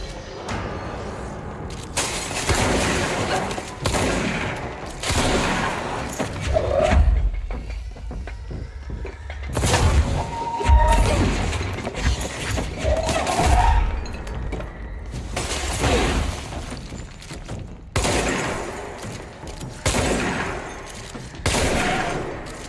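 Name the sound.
shotgun firing in video game Control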